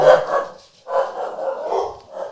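Dogs bark close by and loud, a cluster of sharp barks followed by a longer run of barking with no talking over them.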